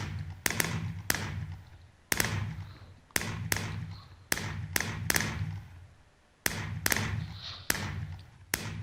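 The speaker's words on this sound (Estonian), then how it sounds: "Aga nad hakkavad ju firework'e juba laskma" New Year's fireworks bursting outdoors, a series of about a dozen sharp cracking bangs at irregular intervals, each followed by a brief rumbling decay, fairly close and loud.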